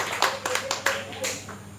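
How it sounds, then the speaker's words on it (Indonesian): Church congregation clapping at an Indonesian Christmas cell-group gathering, a short burst of several sharp claps from a crowd amid a faint ongoing tone, close and moderately loud. "Tepuk tangan ya Bapak Ibu ya. Yang keras sedikit, haleluya."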